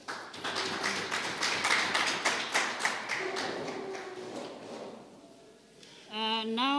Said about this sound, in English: Again, a round of applause.